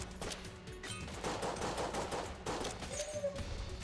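Rapid machine-gun style gunfire from Enter the Gungeon, firing in steady bursts that run almost without pause for several seconds, fairly close and alone.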